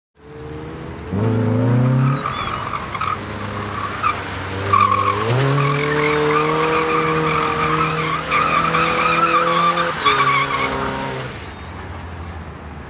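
Loud, sustained tire squealing as a car drifts in Forza Horizon 5, the engine roaring underneath, with the pitch jumping and shifting through several long slides before fading out.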